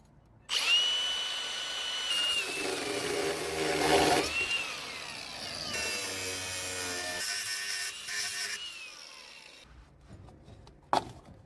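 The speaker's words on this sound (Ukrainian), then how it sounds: "Хочу відкрутити хомут, пильник, і відкрутити тягу рульову і встановити нову тягу" A power drill whirs continuously while loosening a clamp on a Mercedes steering tie rod, its pitch rising and falling as the fastener turns, loud and close, ending with a short sharp knock.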